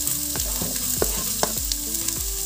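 Garlic, onion and ginger sauté in hot oil, a steady loud sizzle broken by repeated scrapes and clacks of a utensil stirring the pan, with no voices.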